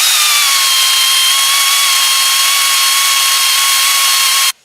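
A pneumatic air ratchet spins transmission bolts on a Tremec T56 Magnum six-speed, giving one steady high whine for about four and a half seconds before it stops abruptly. It is loud and close, with no voices.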